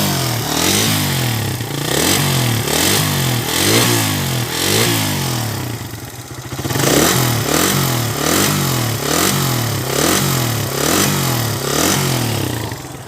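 A Suzuki Raider 150 motorcycle engine, its block just worked on and carburetor freshly tuned, idles roughly with a rapid, uneven mechanical ticking and clatter, steady and close, with a brief dip midway before picking up again.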